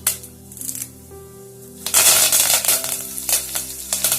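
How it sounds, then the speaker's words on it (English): Curry leaves hit hot oil already holding jeera, cinnamon stick and cloves, setting off a sudden loud crackling sizzle that spits and pops steadily after a quieter stretch of low kitchen hum. "and we'll add the curry leaves"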